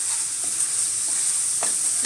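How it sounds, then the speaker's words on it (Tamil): Spices and onions sauté in a pan for egg kurma, giving a continuous bright sizzle with a few soft scraping stirs near the end and no talking. "இப்போ இதெல்லாம் நம்ம போட்டதெல்லாம் எல்லாமே நல்லா வதங்கிடுச்சு"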